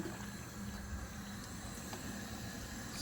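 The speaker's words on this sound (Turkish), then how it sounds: "Suyum kaynıyor." Continuous dense bubbling and hissing of water at a rolling boil in a pot, cooking stuffed mumbar, steady and close with no voices.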